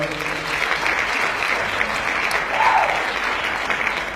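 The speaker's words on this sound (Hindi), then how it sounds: "बहुत सारी तालियां शाम दुरानी साहब के लिए" Continuous applause from an audience at a mushaira poetry award event, a dense steady clapping that swells slightly near the end.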